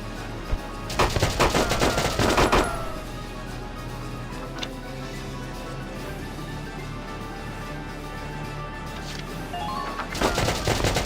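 Bursts of gunfire in the video game Valkyria Chronicles, a loud rattling volley near the start and another at the end, with quieter ambient battlefield hum and faint ticking in between.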